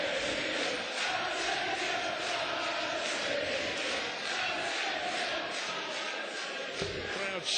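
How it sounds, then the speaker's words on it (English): A darts match crowd roars and chants for a Russian player, a dense, continuous wall of shouting that stays steady and fairly loud throughout. "Crowd shouting and chanting for this Russian darts player."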